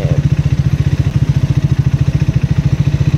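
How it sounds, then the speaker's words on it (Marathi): Big motorcycles idle at a group ride, their engines thumping in a loud, steady, rapid pulse close by, with no talking. "आज बिग बाईक पण आहेत."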